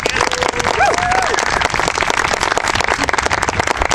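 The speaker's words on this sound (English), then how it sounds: "Can we give everybody a round of applause here?" Loud, continuous applause from a crowd at a public event in Muskegon, Michigan, with dense clapping throughout and voices audible underneath.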